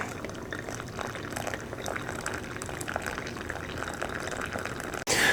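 Hot water heated on a portable camp stove poured slowly through a coffee filter over grounds, a gentle steady trickle up close that ends in a sudden louder clunk.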